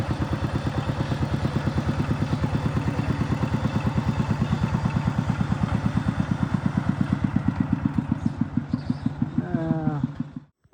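Motorcycle engine riding up a mountain road in the Laos highlands, a steady close, loud putter with rhythmic pulsing throughout that cuts off abruptly near the end.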